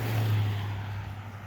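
A car driving past on a foggy road near a snowy trail, a low engine drone that is loud at first and then slowly fades as it moves away.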